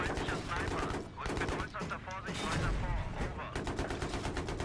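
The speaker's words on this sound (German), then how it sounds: "Ich schieße einfach wahllos, das ist schon okay" Rapid bursts of automatic gunfire and repeated shots in a Battlefield 3 multiplayer match, loud and dense throughout, with voices talking over the shooting.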